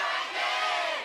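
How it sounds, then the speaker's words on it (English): Esports arena crowd at a League of Legends LCK match roaring and cheering, a loud sustained wall of voices that swells slightly and holds steady. "Crowd's going nuts"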